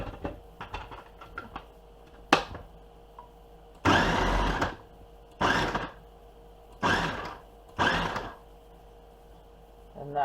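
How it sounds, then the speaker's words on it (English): A food processor chops fire cider ingredients in several short pulses, each a loud whirring burst of about a second, separated by quieter gaps with small clicks and knocks nearby. "I'm going to put that through the processor as well"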